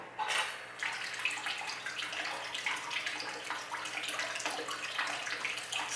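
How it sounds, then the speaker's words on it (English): Water runs and splashes steadily as the pump starts on a wet tile saw used for cutting Trancas and Keokuk geodes, a continuous close hiss of flowing water from start to end. "I'm going to pull up my sleeves and start the pump."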